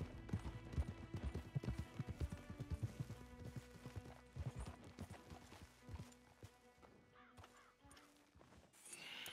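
Horses trot in Red Dead Redemption 2, a quick run of hoof clip-clops on the ground that slows and fades, quiet and fairly close, with no clear talk.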